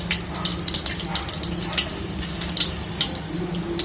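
Mustard seeds crackle and pop in hot oil in a pan while buttermilk curry (mor kulambu) is tempered: a dense, continuous run of sharp, close sizzling snaps.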